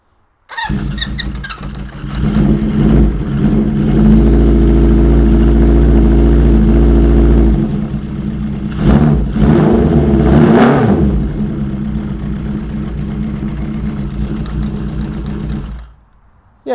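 A 1970s Honda CB400 plunger-frame chopper motorcycle engine revs up loudly and holds a steady high rev, then blips a few times before settling into a rough idle, close and alone.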